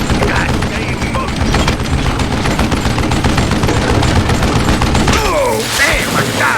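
Dense rapid gunfire from the Western shooter game Call of Juarez Gunslinger, loud bursts of shots running almost continuously, then cutting off near the end as someone talks over the game audio.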